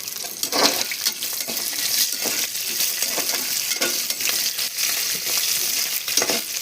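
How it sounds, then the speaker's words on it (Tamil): Onion, garlic and ginger frying in a pan, with a steady close sizzle and repeated scraping stirs throughout. "இப்போ வந்து வெங்காயம், வெள்ளைப்பூடு, இஞ்சி இந்த 3ஐயும் கூட போட்டு வறுத்துடுங்க"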